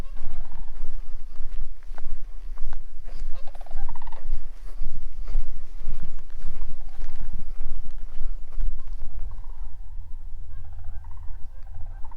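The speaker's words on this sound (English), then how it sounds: "Not sure what kind of birds those are." Loud, busy gobbling and squawking of unidentified fowl in the Yellowstone backcountry, several birds calling over one another continuously, with shuffling and hoof-like clopping in the background.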